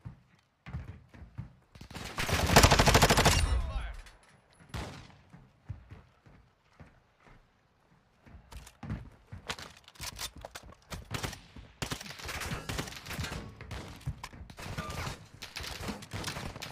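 Gunfire in Modern Warfare 2 DMZ: a loud roaring blast early on, then scattered sharp shots and bursts at varying distances, growing denser toward the end.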